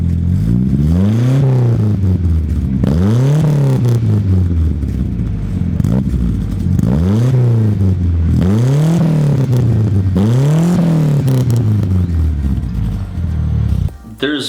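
A turbocharged Datsun engine revs hard through a new exhaust, about six loud, rising-and-falling blips in steady succession, close by and dominating the scene.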